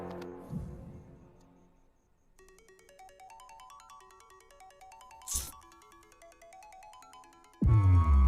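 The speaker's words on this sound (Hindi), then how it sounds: "तुम्हारे नंबर से मुझे कॉल आ रहा है" A mobile phone rings with an incoming call, playing a steady electronic ringtone melody of repeated stepped tones, moderately loud and alone, with a brief sharp burst partway and a louder noisy sound cutting in at the end.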